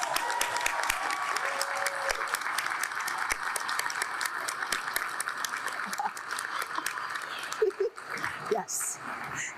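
Dense, sustained applause fills a law school graduation ceremony hall as graduates clap for their family and friends, with cheering voices mixed in toward the end.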